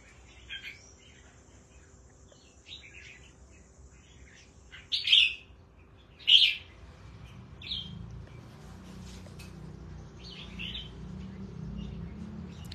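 Pet songbirds kept in cages give a few sharp chirps and short tweets over a steady low hum. Two calls stand out clearly, and fainter twitters come and go between them.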